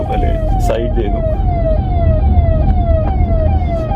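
An ambulance siren wails loudly in a repeating rising sweep as it closes in from behind a 2022 Tata Harrier Dark Edition SUV on the road, with steady road and engine noise underneath.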